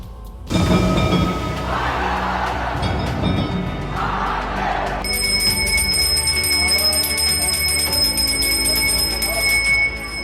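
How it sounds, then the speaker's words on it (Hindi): Bells ring during Hindu worship in a temple, a loud clanging metallic peal with bright sustained tones layered over a dense crowd and ambient din, continuing without pause. "मंत्रोच्चार, घंटा घड़ियाल,"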